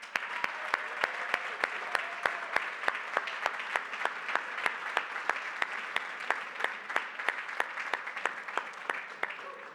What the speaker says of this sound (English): one more round of applause to everyone who's donated tonight